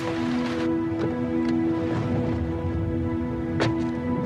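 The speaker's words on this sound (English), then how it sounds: "Here comes rain." Rain starting to fall, a steady hiss with scattered drops, under a constant low engine-like hum and a few soft knocks, with no talking.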